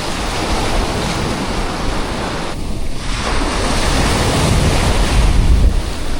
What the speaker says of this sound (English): there's a good little chop on the water.